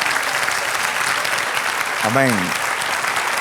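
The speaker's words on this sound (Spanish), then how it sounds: "Él se merece un aplauso." A church congregation claps for God during a Spanish-language sermon, a steady rustling wash of many hands applauding with a voice calling out briefly over it.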